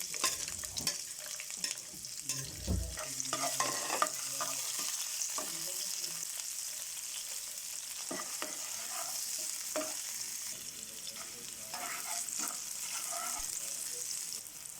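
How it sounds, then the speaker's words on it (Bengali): Chopped onions frying in oil in a pan for vegetable noodles, a soft steady sizzle under repeated spatula scrapes and taps, fairly quiet and close. "ভিউয়ার্স আমি এখন দিয়ে দিচ্ছি পেঁয়াজ কুচি"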